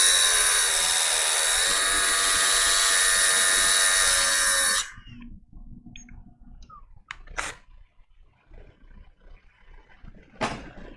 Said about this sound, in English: you guys can just listen to me sharpen a tungsten